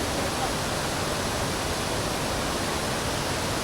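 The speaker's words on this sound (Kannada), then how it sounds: "ನೋಡಿ ಹಿಂಗಿದೆ ಫಾಲ್ಸ್" Bandaje waterfall on a rocky trek heard as a dense, steady roar of falling water, loud and close, continuous broadband rush with no breaks and no voices.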